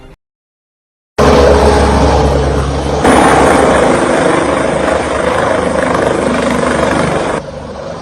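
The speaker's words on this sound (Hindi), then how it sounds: "उत्तराखंड के रुद्रप्रयाग में हाईवे पर हेलीकॉप्टर की इमरजेंसी लैंडिंग कराई गई" A helicopter makes an emergency landing on a highway in Rudraprayag, Uttarakhand, its rotor and engine roaring loud and steady after a brief quiet start, with the tone shifting slightly as it settles.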